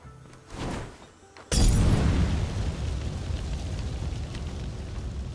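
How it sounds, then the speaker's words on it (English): A petrol bomb thrown in the zombie game State of Decay bursts into a sudden loud explosion after a short muffled lead-in, followed by a sustained roaring rumble of fire. "First, throw a petrol bomb."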